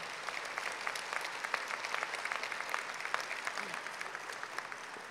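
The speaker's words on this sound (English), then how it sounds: "And clap because you did it." Steady clapping from the audience at a college nurse pinning ceremony, fairly quiet and distant, with sharp individual claps standing out from the crowd.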